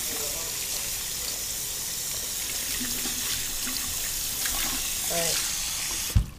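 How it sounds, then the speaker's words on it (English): Running tap water rinsing a leopard gecko's small water dish fills the clip with a close, steady splashing hiss, shifting slightly as the dish moves under the stream, and a brief spoken word near the start. "rinse the water dish."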